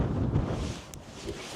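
Strong, cold wind buffets a microphone on a UK golf course, a dense low rumbling roar with gusty surges throughout, close and continuous, with no voices.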